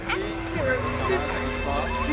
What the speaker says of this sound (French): Occupez-vous du chien. Il faut le museler.